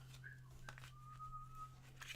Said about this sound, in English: He's just whistling like crazy.